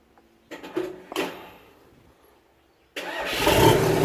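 A combine harvester parked for two months has its starter cranking in two short bursts, then the engine catches and runs with a loud, rough rumble that grows steadily.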